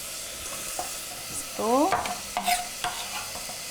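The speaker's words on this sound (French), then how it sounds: "je vais juste mélanger le tout" A spoon stirs a saucepan of ricotta gnudi with homemade tomato sauce, scraping and clinking in short bursts over a soft sizzle, close and fairly loud, with a brief spoken comment.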